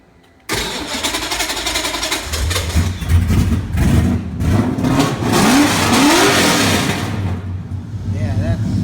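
Loud Honda Civic R18 with a turbo swap starting up and revving at night, the engine catching abruptly then climbing through several rising revs with voices talking nearby.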